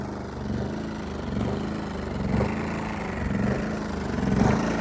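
An engine idles unevenly, its low chugging rising and dipping in rough pulses rather than holding a smooth, steady note.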